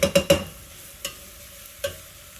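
Onions and peppers stirred in a pot, three quick scraping clanks of a spoon close together, then two more spaced knocks over a faint sizzle.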